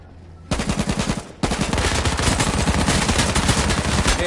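Loud, close automatic gunfire in the video game H1Z1, a short rapid burst, a brief pause, then a long unbroken stream of fast shots that continues to the end.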